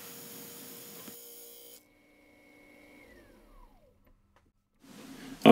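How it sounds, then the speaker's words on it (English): A bowl gouge cuts a bubinga bowl blank spinning on a wood lathe: a short, rough scraping cut close by, then the motor's whine winding down to near silence before another burst of noise. No one speaks. "Just running the bowl gouge round, rubbing the bevel."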